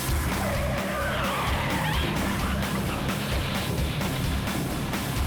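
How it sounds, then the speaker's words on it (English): A speeding car skids with squealing tires, a harsh continuous screech over a loud road rumble, without a distinct impact sound, at a busy intersection. "The car slams into another vehicle."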